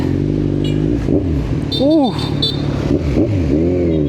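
A Kawasaki Z1000 R with an inline-four 1000cc engine and a new exhaust idles and revs in a steady, loud drone, with a couple of short rising throttle blips near the middle and people talking over it.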